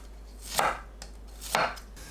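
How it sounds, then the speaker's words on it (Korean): Two crisp knife chops slicing garlic into thin pieces on a cutting board, about a second apart, close and isolated with a low steady hum beneath. "마늘을 편으로 썰어주세요."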